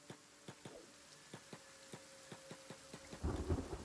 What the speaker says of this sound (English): Why is there acid rain here?